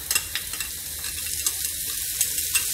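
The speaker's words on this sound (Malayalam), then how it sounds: "അപ്പോൾ തേങ്ങ നുറുക്കിയത് ഏകദേശം ഫ്രൈ ആയി വന്നിട്ടുണ്ട്" Coconut pieces and sesame seeds frying together in a pan make a continuous bright sizzle, broken by a few soft stirring scrapes and crackles, heard close and without voices.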